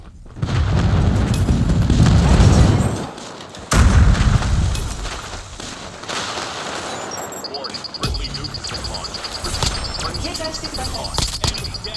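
Airstrike explosions in the video game Call of Duty Mobile: heavy booming blasts in two bursts, then quieter rumbling and game effects, with a voice talking.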